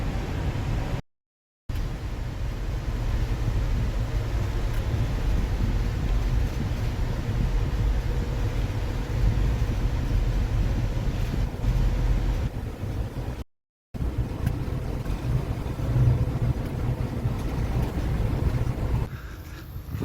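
Steady wind rushing over the microphone beside the East Sea coast at Yangyang, with a low roar of sea and surf underneath, continuous and fairly loud, broken by two brief dropouts.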